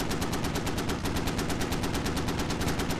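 Stryker armored vehicles in the Squad war game fire their mounted guns in a steady, rapid automatic stream of bursts, loud and continuous for the whole stretch with no pauses.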